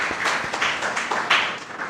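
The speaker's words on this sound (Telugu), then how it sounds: "ఒకసారి గట్టిగా క్లాప్స్ కొట్టి దేవునికి స్తోత్రం చెల్లిద్దాం గట్టిగా" Church congregation clapping loudly together in praise during a sermon, a dense sustained burst of many hands with irregular louder accents throughout.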